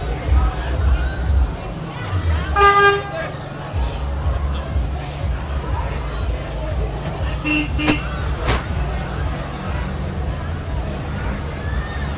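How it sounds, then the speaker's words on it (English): A 1946 tank truck of the Almont Fuel Company rolls along in a Halloween parade, engine rumbling low amid crowd chatter, with a short horn toot early on and a few sharp horn blasts later. "Almont Fuel Company in a 1946 tank truck"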